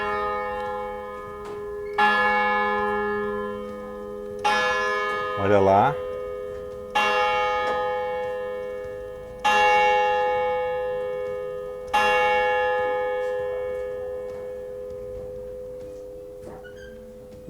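A church bell in the clock tower of a medieval castle in Paris tolls about six slow, evenly spaced strikes, each ringing out and decaying, with a brief voice spoken between strokes.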